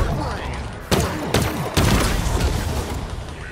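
Gunfire from a weapon in Halo Infinite, loud close bursts with a few sharp cracks over a dense rumbling background, with a voice talking faintly beneath.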